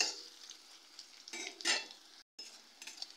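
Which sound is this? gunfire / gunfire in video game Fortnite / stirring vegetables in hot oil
stirring vegetables in hot oil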